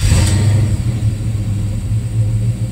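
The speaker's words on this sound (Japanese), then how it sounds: "エンジンスタート。" A custom-built car's engine starting and settling into a loud, steady low rumble, close up, with no talk over it.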